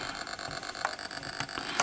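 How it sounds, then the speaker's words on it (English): Thin, steady electronic engine whine of a motorbike in the ZX Spectrum 48K game Super Hang-On, a continuous buzzing tone with slight pulsing and a few brief beeps layered on top. "Now the sound is just that engine whine that most Spectrum 48K games had"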